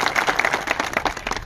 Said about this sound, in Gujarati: આપણે બધા એકવાર તાળીઓ પાડી.